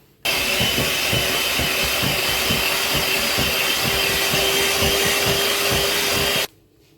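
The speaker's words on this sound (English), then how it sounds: "mix on a high speed of the mixer" An electric mixer whirs loudly and steadily on high speed through vanilla cake batter, beginning abruptly and cutting off just as suddenly after about six seconds.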